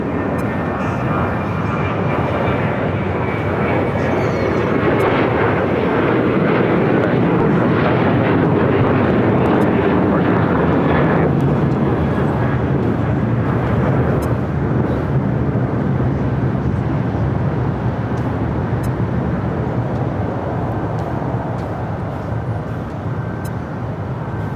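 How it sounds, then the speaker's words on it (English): American Airlines Boeing 737-800 jet taking off from LAX, a long loud engine roar that swells toward the middle and slowly eases as it climbs away, with no voices over it. "That was American Airlines Flight 475 heading to Chicago O'Hare, 737-800"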